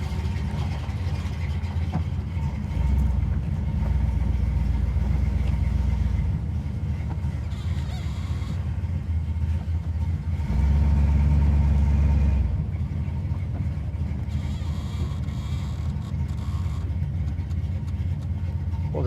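A 1970 Chevy Camaro restomod with a 350 V8 pulls away and drives. A loud, steady low rumble lasts throughout and swells briefly twice as the engine is given more throttle.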